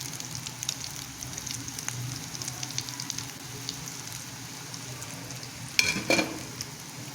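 Shami nuggets fry in a pan with a soft, continuous sizzle and crackle, a brief louder spatter near the end.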